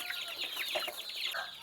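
Free-range village chickens on a farm cluck softly and steadily for a short stretch, the hens' calls layered and fairly close with no talking over them.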